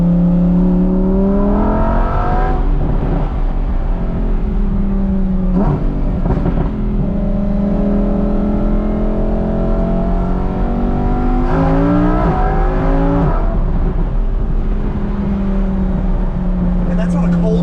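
A 2021 Lamborghini Huracan V10 with an FI exhaust on a cold day, loud and close, swelling through repeated revs and accelerating pulls with rising, wavering engine tones, with a person talking over it.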